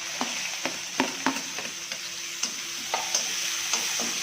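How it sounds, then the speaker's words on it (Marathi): Onion, garlic and spices frying in hot oil, a steady close sizzle broken by repeated scraping taps of a spatula stirring the pan. "लसूण टाकत थोडा करून घेते आणि लगेचच कांदा"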